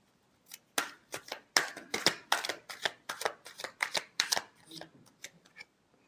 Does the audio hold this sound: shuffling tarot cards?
yes